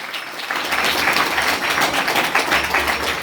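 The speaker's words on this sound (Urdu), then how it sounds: "کھل کے تالیاں، میرے لیے نہیں، خدا لئی۔" A church congregation claps during a Christian sermon on fasting, a dense, steady burst of many hands lasting a few seconds, loud and close, with no one speaking.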